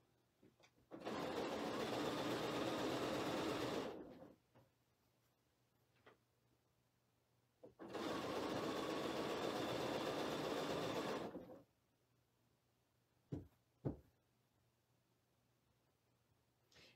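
A sewing machine stitches quilt strips in two steady runs of about three seconds each, separated by quiet pauses, with a few sharp clicks near the end and no talking.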